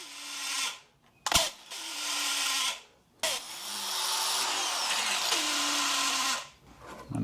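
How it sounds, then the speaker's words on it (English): Angle grinder running in bursts during a project to fit lights on a Sherman, a loud, close, steady high whine that stops and restarts twice, with sharp knocks between runs. "I've never actually used an angle grinder before, believe it or not"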